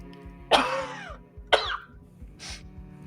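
Three harsh coughs in quick succession, the first loudest and the last fainter, close to the listener with no talking.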